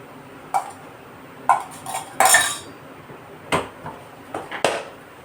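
Rock fish fry with chili powder and salt is tossed in a pan, giving sharp intermittent metallic clanks and scrapes of a utensil against the cookware, close and clear with quiet gaps between.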